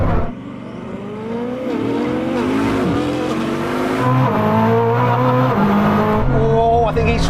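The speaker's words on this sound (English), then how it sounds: "a standstill drag race at quarter and half mile" A Bugatti Chiron Super Sport and a Koenigsegg Jesko launch in a standstill drag race. Engines rev and roar loudly, with rising gear-change sweeps and some tire noise. A person talks over the cars throughout.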